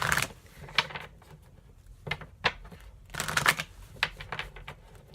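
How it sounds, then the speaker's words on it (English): Tarot cards being shuffled by hand, a few quick soft riffling bursts with pauses between them, close and fairly quiet with no talking. "I like to make sure you guys see me shuffling."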